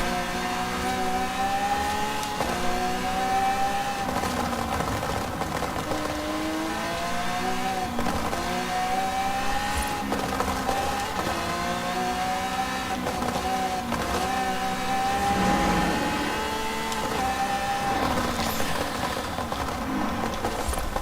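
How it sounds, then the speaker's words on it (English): A Corvette engine in a racing video game, revving and shifting steadily through rising and falling pitch sweeps over about twenty seconds, loud and continuous with no talk. "This Corvette is so fast"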